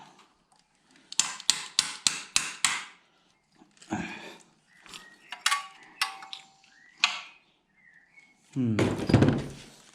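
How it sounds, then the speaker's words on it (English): Sharp metallic taps from a hammer come in a quick run of six, then scattered single knocks and a louder clattering burst, with quiet gaps between. "I'm kind of tapping it with a hammer."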